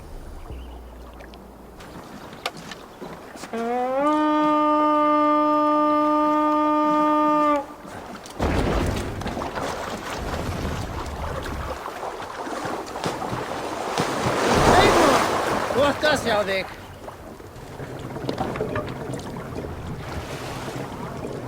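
A sailing boat crosses the sea in the video game Assassin's Creed Valhalla: a sustained horn-like tone, then rushing water, waves and wind noise.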